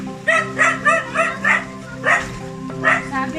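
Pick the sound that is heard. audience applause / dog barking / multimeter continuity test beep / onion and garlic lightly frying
dog barking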